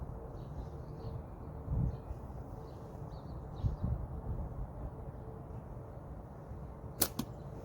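Archery training shot: a single arrow released and striking with a sharp, brief impact near the end, heard faintly against a steady outdoor background of low rumble and soft rustling.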